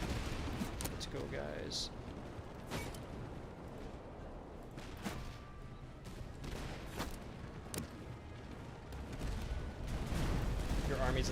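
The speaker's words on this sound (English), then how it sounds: "Need to get the artillery firing." Artillery batteries firing in the Master of Command battle game, repeated booming reports and scattered gunfire at irregular intervals over a continuous battle din, while someone talks over it.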